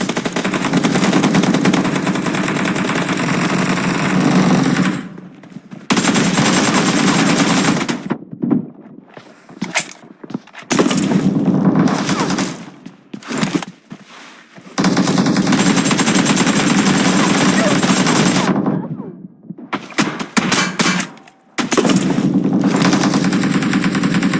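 Rapid automatic gunfire in the battle royale game PUBG Mobile, loud sustained bursts broken by short pauses, with bursts resuming repeatedly across the span.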